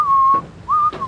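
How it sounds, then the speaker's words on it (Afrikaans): A person whistles two sustained steady notes in short succession, each with a slight upward slide, loud and close with a brief pause between. "Hou dadelik op fluit."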